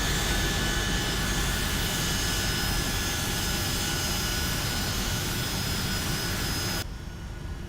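Boeing 757-200 jet engines in X-Plane 12 hold a loud, steady whine and rumble while the plane sits on the runway, then cut down sharply in volume just before the end.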